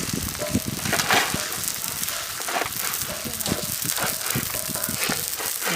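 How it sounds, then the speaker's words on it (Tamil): Scrambled egg masala curry sizzling and frying in a watermelon shell outdoors in a village kitchen, a steady loud crackle with stirring scrapes and clinks throughout. "முட்டை நல்லா வெந்துக்கிட்டு இருக்கு"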